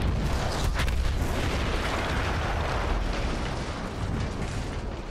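A large explosion in the video game Battlefield 1 rumbles loud and deep, its heavy blast trailing into a long crackling decay with debris-like rattles over several seconds.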